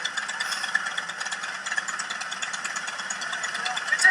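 Motorcycle engine running steadily while riding in the Sturgis Buffalo Chip parade, a continuous mid-pitched drone with rattling texture under wind, with a person talking over it throughout.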